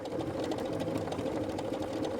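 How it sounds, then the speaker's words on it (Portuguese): A Pfaff Creative Ambition 640 sewing machine stitches steadily under Start/Stop control, its motor humming in an even, continuous run with a fast needle rhythm, close and alone. "E venho costurando através da tecla Start Stop."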